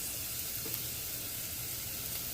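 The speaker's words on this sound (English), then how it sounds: "I'm going to add my onions, which is a little bit more than half a cup of onions" Onions hitting a hot pot give a dense, even hiss of sizzling that holds steady throughout, close and fairly quiet with no voices.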